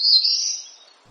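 A single high, thin note of a black-throated blue warbler, clear and close, slowly falling and fading within about a second against silence.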